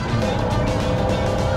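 A BMW M1 mid-engine car accelerating hard, its engine a loud, dense, continuous roar heard up close throughout the short burst, with no talking.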